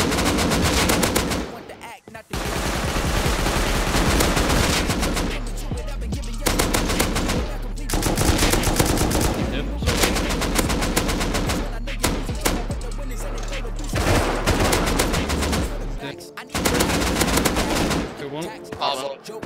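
Heavy, nearly continuous gunfire in the survival game Rust fills the clip, with dense rapid bursts broken by a few short gaps, loud and close, with voices faintly present.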